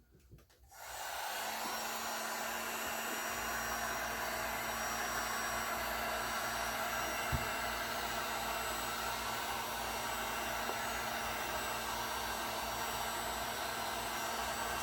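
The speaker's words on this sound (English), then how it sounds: "So this is the DFD Torch and Blow TNB. Straight on with the fire." A DFD Torch and Blow TNB heat tool blows onto poured resin with a steady, loud whooshing hiss that runs without a break after a brief start. No one speaks.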